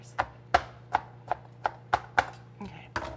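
A knife chops onions on a cutting board in about eight crisp, evenly spaced strikes, close and clear over a low steady hum.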